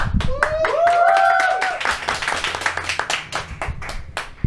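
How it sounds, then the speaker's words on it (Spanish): Enthusiastic applause from a crowd, dense clapping with a few whistles at the start, loud and close, tapering slightly toward the end. "Vamos a recibir este programa con un fuerte aplauso."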